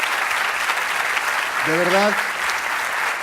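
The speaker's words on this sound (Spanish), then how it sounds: "les quiero pedir para mi panel un fuerte aplauso por el talento mexicano y español que tenemos aquí" Audience applause for a cybersecurity collaboration panel at a university event in Mexico, a steady broad wash of clapping running throughout, with a voice speaking briefly over it.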